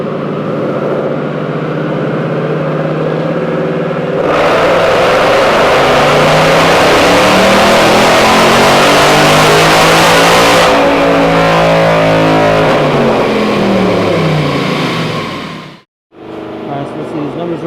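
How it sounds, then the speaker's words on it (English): Ford Mustang S550 California Special engine loudly revving on a dyno, a steady drone that surges into a sustained high-rpm wail, falls back, then cuts off abruptly before rising again. "We have a S550 on the dyno."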